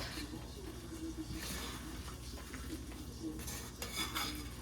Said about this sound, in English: Mix it up as good as I can with the spoon, because this is hot.